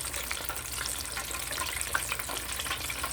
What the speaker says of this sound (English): he's frying very, very well